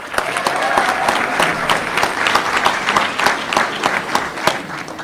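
Crowd applause at a bill-signing event where Virginia Governor Glenn Youngkin signs bills banning some food dyes, a dense, sustained clapping from a large room audience that fills the whole stretch.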